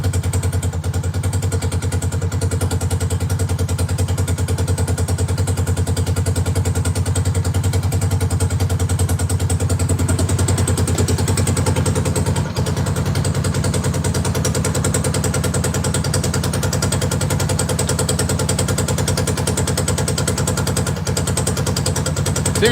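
Honda Foreman ATV engine idling steadily with an open air box, a close, continuous mid-pitched chug that holds even throughout with slight irregular clatter and no voices.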